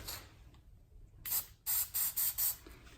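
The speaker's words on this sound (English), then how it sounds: "So we'll do the first coat, do a little test spray here." A short hiss from an aerosol can of Plasti Dip, then four quick bursts of spray in a row, close and sharp against a quiet room.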